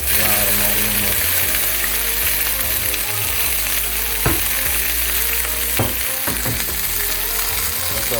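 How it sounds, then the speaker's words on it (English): Tortillas for nachos fry in hot oil with a loud, dense, continuous sizzle, and a few knocks and scrapes of stirring rise above it. "So what we're going to do now is just slide them on in this hot oil and get them to cooking."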